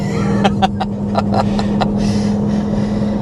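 A 2025 Dodge Durango Hellcat accelerates with a loud, steady engine roar held throughout, with a series of sharp bursts and pops cutting in over the first two seconds.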